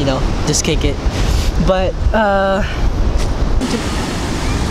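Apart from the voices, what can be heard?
ocean waves at the beach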